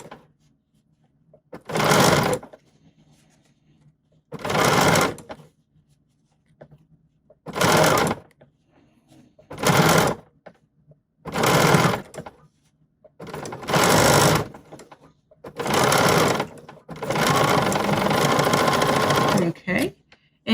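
A BERNINA sewing machine fitted with Edgestitch Foot #10 sews close stitching beside an opened seam. Eight quick bursts of rapid, even stitching are separated by short pauses, and the final burst runs longest.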